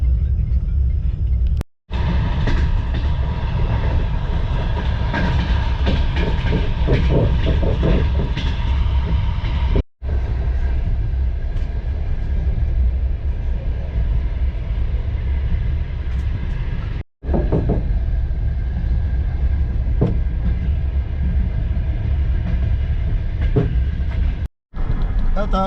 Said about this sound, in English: to enjoy the train ride